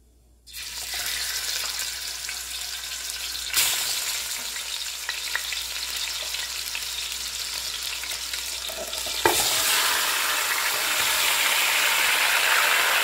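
Pork ribs sizzle and fry steadily in a hot pan, a continuous close crackle that grows slightly louder and brighter toward the end, with no talking.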